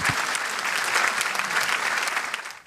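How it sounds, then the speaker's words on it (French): A church congregation applauds the musicians during a service with a steady, full round of clapping that holds evenly, then thins and fades at the end. "Moi, je les applaudis avec vous."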